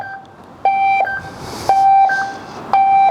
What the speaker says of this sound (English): If you push the lock button on here, it does lock it and put it in alarm mode